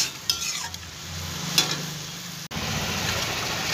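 Greens and rice being stirred and fried in a kadai, a soft steady sizzle with scraping strokes of a spoon against the pan, close and continuous with no talk.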